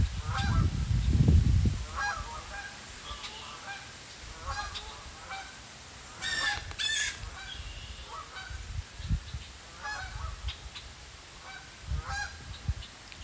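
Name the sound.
Canada geese honking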